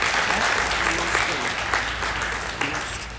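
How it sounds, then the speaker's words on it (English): A crowd at a graduation ceremony applauds the graduates, with dense, sustained clapping that fills the hall steadily and fades only slightly. "let's have one more round of applause for these amazing graduates"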